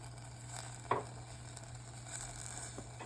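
Blueberry pie filling with vanilla and brown sugar cooks in a pan, giving a faint, steady sizzle. One soft clack of stirring stands out, and no voice is heard.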